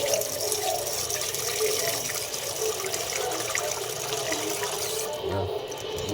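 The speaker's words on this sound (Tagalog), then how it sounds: "Tubigan muna natin." Tap water running steadily into a cooking pot while preparing fish stewed with tomatoes, a continuous close splashing flow that stays even throughout and eases slightly near the end.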